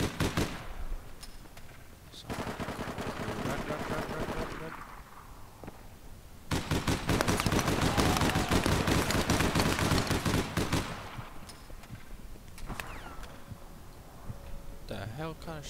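Gunfire from a sniper and other weapons in the online shooter game APB Reloaded, loud bursts and rapid volleys across the clip, with a dense sustained barrage in the middle and scattered shots before and after.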